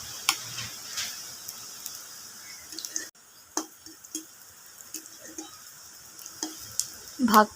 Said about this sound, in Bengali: বাকি ধোকাগুলো আমি এইভাবে ভেজে নেব।